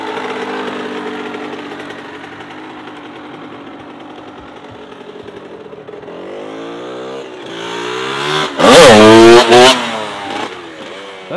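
A 1997 Honda 125cr two-stroke motorcycle is heard from a distance at first, then revs up sharply and climbs louder as it pulls a wheelie nearby, with brief loud revs near the end.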